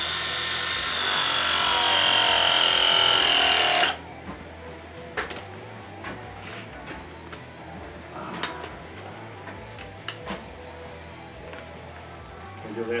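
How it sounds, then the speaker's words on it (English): Battery ProPress tool crimping a half-inch plumbing fitting on a combi boiler pump install, a loud steady motor whine lasting about four seconds that stops abruptly, followed by quieter clicks and handling noises nearby. "Pro press gets stuck on the 1/2 inch press."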